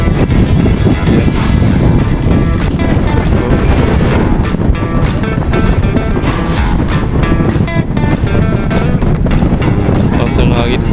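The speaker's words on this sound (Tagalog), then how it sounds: "Lakas ang hangin." Strong wind roars and buffets the microphone continuously at night on the deck of the passenger ship MV Virgen de Peñafrancia XI at sea bound for Romblon, with a low rumble underneath.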